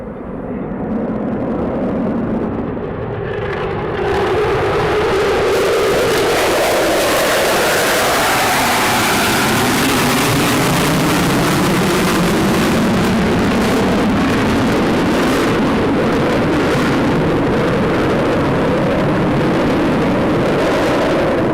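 Fighter jet taking off at RAF Lakenheath: a loud, sustained roar builds from a distant rumble into a powerful, broad jet-engine blast that dominates for about twenty seconds, with a shifting pitch as the aircraft passes and climbs away.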